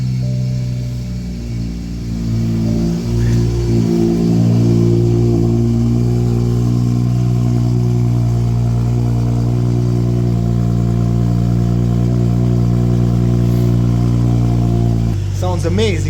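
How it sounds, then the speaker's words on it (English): A BMW 4 Series idles just after a cold start: a steady, close, continuous engine rumble with an even mechanical hum that shifts slightly near the end. "Sounds amazing on cold start."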